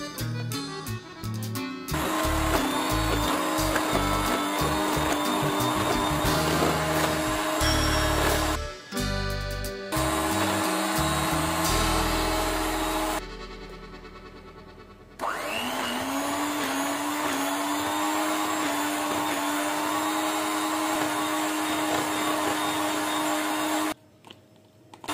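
Electric mixer beating cubed, fridge-chilled Arong Dairy butter into Swiss meringue buttercream, a loud continuous motor whine with clattering, shifting in pitch and briefly dropping out midway before resuming steadily.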